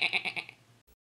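A goat bleats in a rapid, wavering run of repeated pulses, close and fairly loud, then cuts off, with a brief faint sound after a moment of silence.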